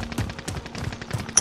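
Video game gunfire, a short rattling burst of rapid shots, loud and dense, with a sharp crack near the end.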